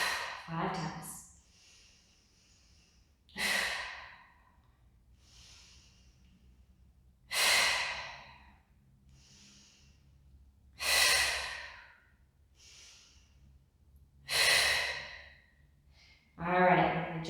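Slow deep breaths during a Pilates mat class, five long airy exhales spaced a few seconds apart, close and clear against a quiet room with no talking between them.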